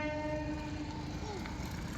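A passing train sounds a long, steady horn over the low rumble and rattle of wagons in the early morning. The tone holds, then bends and drops near the end, with a voice faintly underneath.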